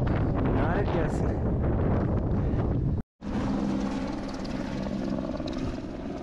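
A helicopter flies near Gorakshep on the Everest base camp trek, its loud, close rotor and engine roar mixed with heavy wind buffeting on the microphone and broken by a brief cut to silence partway through.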